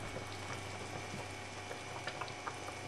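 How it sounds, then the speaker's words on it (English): Chicken curry simmering in a pot as its water boils off, a steady low bubbling hiss with scattered small pops and crackles, fairly quiet and continuous with no voices. "it will start to boil off and the water will evaporate"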